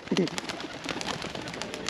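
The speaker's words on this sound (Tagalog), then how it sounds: "Yung kalapati po." A pigeon gives a short, soft coo near the start, followed by faint background noise and light rustling.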